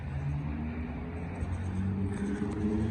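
A drifting car that has just spun out rumbles and revs nearby, its engine droning steadily in a low, rough tone with no voices over it.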